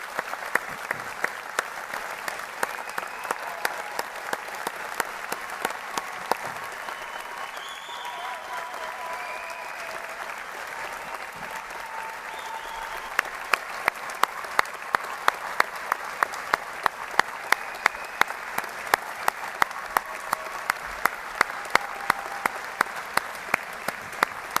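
Sustained applause from an indoor audience at a midshipmen candidates' graduation, steady dense clapping for the whole stretch, with louder individual claps standing out near the end.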